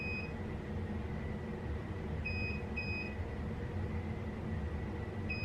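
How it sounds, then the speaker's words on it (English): Controller on a Sur Ron Light Bee e-bike gives short, thin electronic beeps, single and paired, over a steady loud hum of background noise. "now it's just a beeping sound"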